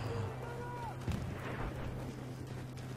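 Roof collapsing in the video game Battlefield 4: a muffled rumbling crash and debris burst amid continuous battle noise and distant gunfire, moderately loud within a dense game soundscape.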